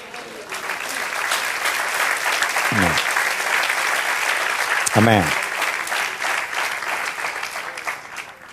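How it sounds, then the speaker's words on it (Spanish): Applause from a church congregation fills the space with steady, dense clapping throughout, while a voice speaks over it twice in brief bursts. "Denle un aplauso al Señor."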